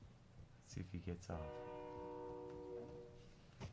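A train rolls by in the Warzone battle royale game, its long sustained horn-like tonal blare holding steady for a couple of seconds after several short clanking hits, with a player talking over it.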